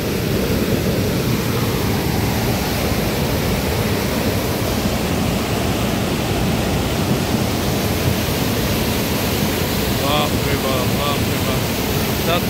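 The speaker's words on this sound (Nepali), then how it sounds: "साँच्चै नै भयानक, निकै ठुलो खोला बगेर आएको हामी देख्न सक्छौँ" A flood-swollen river rushes after a night of heavy rain, making a loud, steady, unbroken roar of churning water that fills the whole clip.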